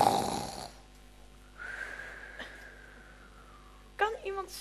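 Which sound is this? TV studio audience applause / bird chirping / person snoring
person snoring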